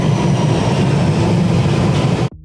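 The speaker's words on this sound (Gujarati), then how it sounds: "લાસ્ટ ટ્રેન ભાઈ 11 નંબરની સેન્ટ્રલ લાઇન, રેડ કલર" A London Underground Central line train rumbles loudly and steadily close by, a dense continuous roar that cuts out abruptly near the end.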